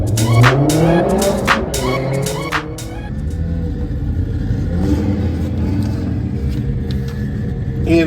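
At Santa Pod, a 9-second sports compact drag car launches off the line at a Vauxhall show shootout, with a sharp burst of revving and tyre squeal followed by a sustained, rumbling engine roar as it pulls away.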